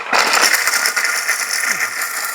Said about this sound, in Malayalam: കാഷ്യൂനട്ട് അരച്ചെടുക്കാം.